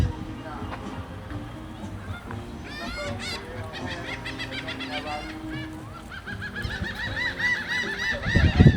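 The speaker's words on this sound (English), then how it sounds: "Birdies." Geese honking near a walking path on a tropical private cruise island, a series of loud, repeated nasal calls that build toward the end, with someone speaking briefly over them.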